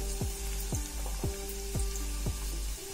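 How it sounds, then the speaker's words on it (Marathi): Half a spoon of turmeric tipped into hot oil for a monsoon-special bhiljya fish curry, giving a steady close sizzle with soft repeated crackling pops throughout and no talking. "तर आपलं तेल तापलेलं आहे। तर यामध्ये अर्धा चमचा हळद टाकते"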